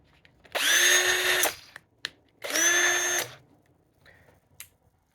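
A Bauer 20-volt half-inch cordless hammer drill whirs in hammer drill mode in two steady bursts of about a second each, close and loud, separated by a pause with faint clicks.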